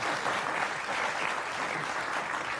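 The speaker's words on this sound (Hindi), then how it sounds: "तो ताली कौन बजाएगा?" An audience at a televised poets' gathering breaks into applause, a thick, continuous patter of many hands clapping at once, steady and fairly close, with no voices over it.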